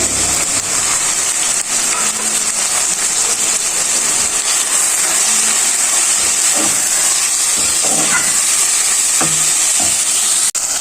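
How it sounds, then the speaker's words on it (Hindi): Minced keema sizzles and fries in oil with tomatoes and green chillies, a steady loud hiss of frying throughout, broken by occasional scraping and stirring knocks of a spoon against the pan. "टमाटर और हरी मिर्ची डालने के बाद भी मैंने कीमे को यहाँ पे भून लिया है।"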